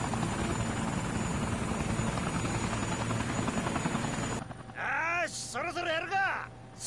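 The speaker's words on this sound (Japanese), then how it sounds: "Helicopter's back." A police helicopter's rotor drones steadily overhead for several seconds in a video game, then cuts out as a voice starts speaking.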